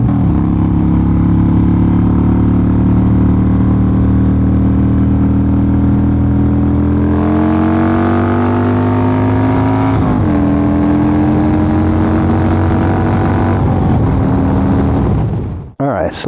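A Harley-Davidson Dyna fitted with forward controls runs steadily while riding, its engine drone rising in pitch as it accelerates through gears, loud and close, with wind buffeting and no talk over it.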